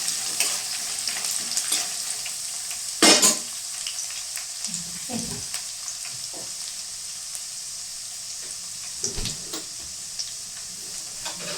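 Garlic sizzles in hot oil in a pan, a constant bright frying hiss with occasional louder crackles and stirring scrapes, close up and without talk.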